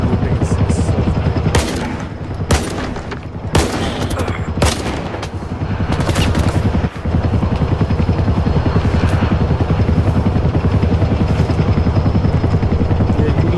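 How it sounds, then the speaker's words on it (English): A helicopter sound loops in STALKER 2, a loud continuous droning thrum filling the whole stretch, broken by several sharp gunshot-like cracks in the first seven seconds. "The helicopter sound looping is so funny."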